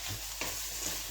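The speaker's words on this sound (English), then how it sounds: "There is something really, really wonderful about the smell of onions frying." Onions sizzle and fry in a pan, a steady close crackling hiss with a couple of brief stirring scrapes.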